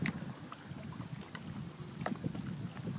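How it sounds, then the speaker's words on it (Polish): A small boat passes on open water at a fishing spot, a low, rumbling drone at moderate distance under gusty wind buffeting the microphone, steady throughout with no voices. "Kolejna łódeczka."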